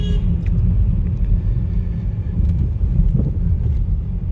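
A Chevrolet Camaro RS engine rumbles low and steady under acceleration, heard from inside with heavy wind and road noise, no clear talking over it.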